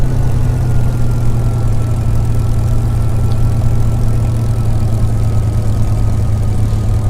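A Spitfire LF Mk IXc taxiing on the ground gives a loud, steady low engine drone with a constant deep hum that continues unbroken throughout, close and with no voices.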